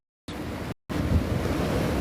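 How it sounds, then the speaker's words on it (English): Ocean waves break on a surf beach at St Mikes, a rushing wash of surf with some wind buffeting the microphone, briefly cut out near the start. "I can't stand there because the waves are breaking here."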